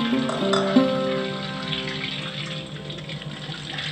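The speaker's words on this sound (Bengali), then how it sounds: "লাউ চর্বিগুলোকে প্রথমে খুব ভালো করে ধুয়ে নিই।" Pieces of bottle gourd are washed under running tap water in a kitchen, with a steady close splashing stream and brief clinks of handling near the start.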